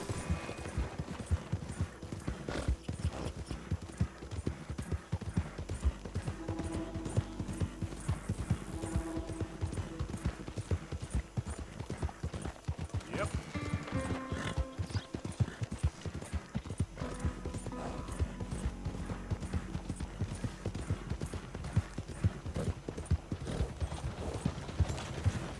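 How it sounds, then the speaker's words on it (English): Steady clip-clop of horse hooves in Red Dead Redemption 2, loud and continuous over a dense game soundscape, with a brief neigh or whinny partway through. "Algo le pasa a mi caballo, tío, no corre."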